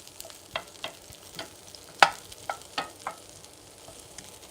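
Onion is stirred in a frying pan, with irregular light scrapes and taps of a utensil spaced about half a second apart, one sharper knock in the middle, over a faint steady sizzle, close and fairly quiet.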